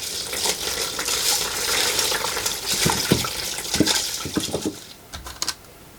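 Polished tumbled rocks rinsed under running water, a steady watery rush with clinking and rattling of stones knocking together, fairly close, tapering off toward the end.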